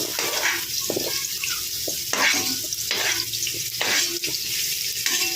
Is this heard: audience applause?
no